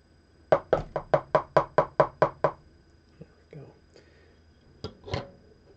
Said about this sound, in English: Knock it off the flowers.